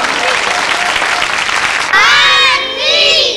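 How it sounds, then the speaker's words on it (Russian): Children clap and cheer at a 1997 Narva children's TV show taping, loud, dense applause that breaks into excited high-pitched shouting near the end. "Ну, молодцы, аплодисменты."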